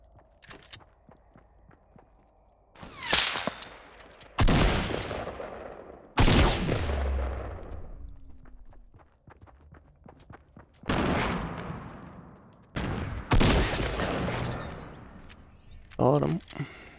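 Gunfire in the Fortnite Battle Royale video game on Xbox One: about seven loud, sharp shots with decaying tails, spaced irregularly over the clip, under intermittent talk.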